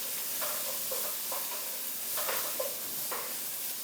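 Garlic frying in a pan, stirred around with a spatula, makes a soft, fairly quiet sizzle, with a handful of light scraping strokes at irregular intervals and no voices.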